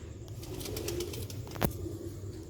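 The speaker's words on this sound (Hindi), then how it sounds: "नया हालत दे विच ब्रीडर कबूतर है" Breeder pigeons coo in a low, steady murmur close by, joined by a burst of wing flapping and a sharp rustle midway, with no voices.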